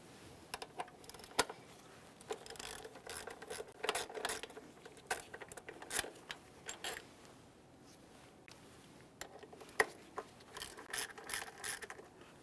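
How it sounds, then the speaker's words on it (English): A ratchet clicks in short bursts while backing out throttle body mounting bolts on a 2017-2024 GMC Acadia 3.6L V6, close and crisp, with quiet pauses between runs. "We'll hold onto the throttle body as we finish removing this mounting bolt."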